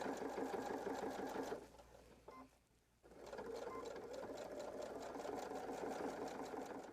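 A sewing machine stitches through a fabric wallet in steady, close rapid bursts, pausing briefly near the middle before resuming its continuous whirring run.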